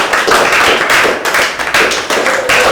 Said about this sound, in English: I want you all to clap for Ngozi and Sonia